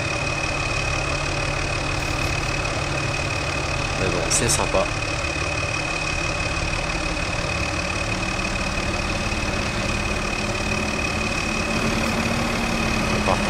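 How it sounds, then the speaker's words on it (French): A 150 hp tractor engine idles steadily in a farming video game, a continuous mid-low drone with a short click partway through, while someone talks over it now and then. "Oh, pas mal comme tracteur. Et mine de rien, il fait 150 chevaux quand même."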